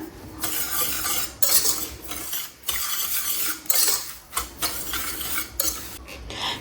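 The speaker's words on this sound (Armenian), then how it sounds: "Այստեղ ձվի դեղնուցի վրա ավելացնում եմ շաքարավազը, մի փոքր խառնում եմ" Sugar being mixed into egg yolks in a bowl, a series of close, rhythmic scraping and clicking whisk strokes in bursts with short pauses between them.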